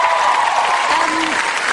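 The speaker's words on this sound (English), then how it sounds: "Big round of applause for Lucy." Studio audience on a TV talent show breaks into loud, sustained applause and cheering, a dense continuous roar of clapping with a voice faintly audible underneath.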